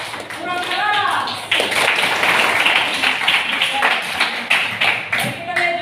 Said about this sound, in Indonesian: Kita berikan applause dulu buat Rizky supaya semangat.